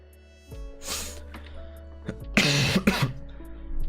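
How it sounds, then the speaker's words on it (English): A man coughs hard twice, in bursts about a second apart, close to the mic, over a steady low hum and faint background tones in a room where games are being built in Unreal Engine 5. "Man, this coughing."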